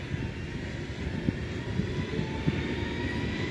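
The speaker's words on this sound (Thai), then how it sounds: "เสียงรถไฟอีกแล้ว" A train passes outdoors in Norway, a steady low rumble of rail wheels and carriages holding at an even moderate level throughout, with no talking.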